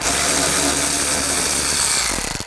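A power tool spins steadily as screws come out with an 8mm socket on a 2000-2006 BMW X5, a continuous whirring buzz that trails off into brief sputters at the end.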